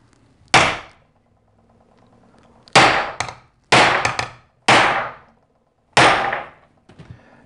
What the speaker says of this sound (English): You do got to give it a pretty good whack to punch through and separate the rivets there.